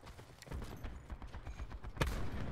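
Rifle fire from the FAL 2.0 in the shooter game Black Ops 4, fairly quiet scattered shots with one sharper, louder crack near the end, under a busy background rumble.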